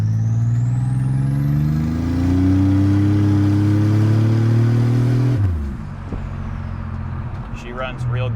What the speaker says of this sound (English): here's an in-car acceleration